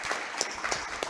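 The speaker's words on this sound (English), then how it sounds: "Round of applause for all those sponsors." Brief applause from a conference audience for the event's sponsors, a short patter of scattered claps at moderate level with no voices over it.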